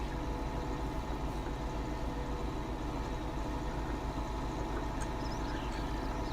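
A tractor engine idles in Farming Simulator 19 with a steady low rumble and even throb, quiet and unchanging throughout, with no voices over it.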